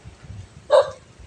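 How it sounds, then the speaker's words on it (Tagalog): A single short bark from a dog rings out once, fairly close, over a quiet low background rumble, with no talking. "Ayan, may aso."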